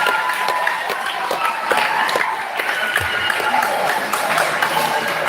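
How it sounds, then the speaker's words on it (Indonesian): Audience applause at a school principal handover ceremony, honoring the teachers and principal: a dense, steady wash of many hands clapping that holds for the whole stretch, with voices mixed in. "Beri tepuk tangan untuk Bapak Ibu Dewan Guru kita dan kepala sekolah kita."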